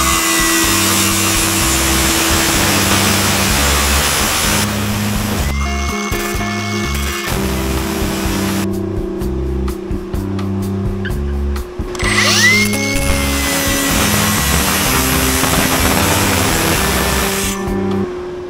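A power tool loudly cuts apart the old exhaust of a 1999 Jeep Cherokee, a continuous buzzing, whining drone that shifts pitch and load as it bites through the metal, with no talking.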